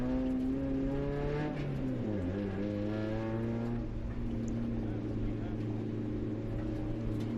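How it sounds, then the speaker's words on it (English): Race cars on track at Mid-Ohio Sports Car Course during a NASA Great Lakes race, engines droning and shifting pitch as they pass, a steady distant roar of several cars with no clear voices. "We have 62 cars out on track."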